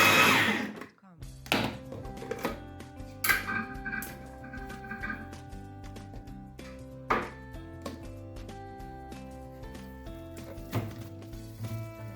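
An electric food chopper mincing raw hake for fish balls whirs in steady bursts, with close thumps and clatter of the bowl between runs in a home kitchen.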